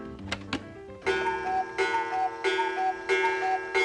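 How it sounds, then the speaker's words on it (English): A clock ticks at a steady, even pace, close and clear, each tick ringing with a metallic tone and no voices over it. "That's the sound of a clock."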